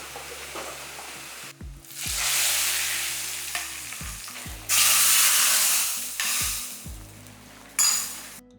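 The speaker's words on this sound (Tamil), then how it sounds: "கருவேப்பிலை எல்லாத்தையும் நல்லா பொரிச்சு போடுவோம்" Curry leaves sizzle and crackle as they fry in hot oil for a Tamil fish gravy, with loud bursts of frying and intermittent stirring scrapes and pan clinks close by, no talk.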